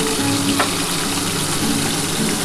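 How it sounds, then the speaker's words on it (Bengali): Pieces of topse fish fry in hot oil, a loud, close, steady sizzle that fills the whole stretch, with a faint tick of a utensil partway through and no voices. "আর এক পিস আমি ভেজে নিই"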